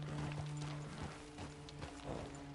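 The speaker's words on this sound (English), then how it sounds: "But my horse is definitely having a bit of trouble finding its way down" Horse hooves in Red Dead Redemption 2, thudding irregularly as the horse picks its way down a slope, several uneven steps over a low steady game hum.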